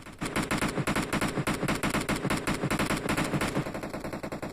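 Rapid bursts of automatic gunfire in the BGMI mobile battle royale game, dense and loud, firing continuously throughout with short rhythmic bursts and no talking.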